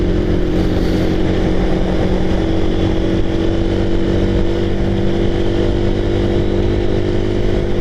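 A steady, loud engine drone with constant wind rush from a motorcycle cruising at speed on a highway, continuous and unbroken throughout.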